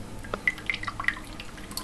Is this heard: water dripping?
yes